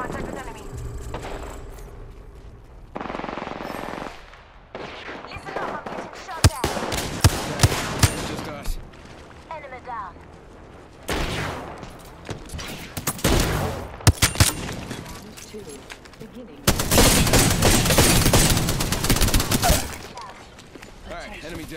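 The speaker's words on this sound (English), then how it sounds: "Okay, they're getting shot." Gunfire in the battle-royale video game Apex Legends, with repeated bursts and sustained automatic volleys, some close and loud, mixed with game effects and occasional talk.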